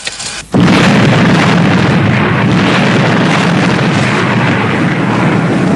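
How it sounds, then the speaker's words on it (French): A sudden loud controlled blast at a rockslide after a brief quiet moment, followed by a sustained roaring rumble that stays powerful throughout. "attention à mon signal, attention à l'explosion. Feu!"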